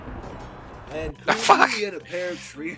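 A single sharp sneeze in the middle of casual talk, close and fairly loud, with voices speaking before and after it.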